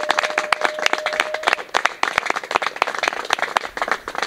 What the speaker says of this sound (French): est-ce qu'on peut encore acclamer pour ce très beau cantique?